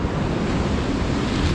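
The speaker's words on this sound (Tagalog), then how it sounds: "Nakakatakot lang maligo dito guys kasi sobrang lakas ng alon." Strong ocean waves break at Dinadiawan beach in Dipaculao, Aurora, making a loud, continuous roar of surf mixed with heavy wind buffeting the microphone, with no talking.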